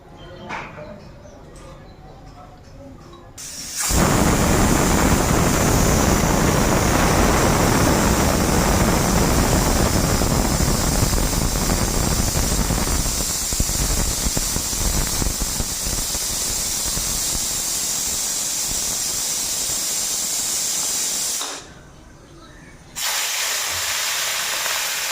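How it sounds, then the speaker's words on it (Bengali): Fish sizzling as they are dropped into hot oil in a kadai, a sudden loud hissing burst that holds steady for most of the clip, briefly dips, then resumes; quiet kitchen sounds come before it. "এখন মাছগুলি ভাজা নিবো আগে।"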